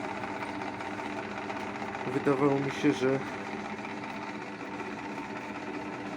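A Majster bench drill press motor hums steadily with the belt turning and the guard open, a constant mechanical whir under someone speaking briefly.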